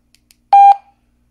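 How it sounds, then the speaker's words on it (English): A single loud electronic beep from a device, a clean steady tone lasting about a quarter second, preceded by two faint ticks, close and alone in silence. "First thing I'm going to do is I'm going to turn off that beep"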